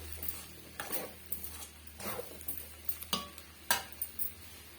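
A spoon or spatula stirring potato stir-fry in a pan, irregular soft scrapes and light metallic clinks spaced about half a second apart, fairly quiet, with no talking.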